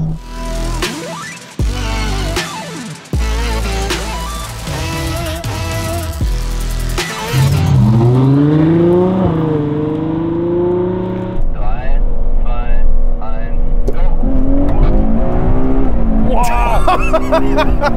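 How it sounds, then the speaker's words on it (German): An 800-horsepower ABT Audi RS6 and a Ferrari 812 Superfast in a rolling drag race: engines rev and shift gears with rising, sweeping tones, loud and close, growing into a sustained roar as the cars accelerate, with people talking over it. "So, dann würde ich sagen, Rolling Race."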